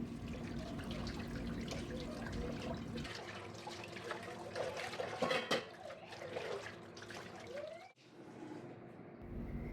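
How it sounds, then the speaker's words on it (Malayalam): Dishes are washed in a kitchen sink under a running tap, a steady gush of water with faint clatter that cuts off near the end, leaving quiet. "സിങ്കിൽ കിടന്നിട്ടുണ്ടായിരുന്ന പാത്രങ്ങളൊക്കെ ഞാൻ വേഗം കഴുകിയെടുക്കുകയാണ്"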